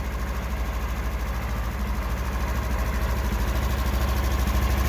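A cold Polaris Ranger XP 1000 engine runs steadily with a rough, throbbing idle and a knocking vibration, loud and close, rising slightly in level toward the end with no talk.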